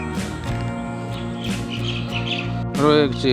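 Small birds chirp and tweet around a valley resort at Vattavada in Munnar, a busy layered chorus of calls running throughout, with a louder burst of song near the end.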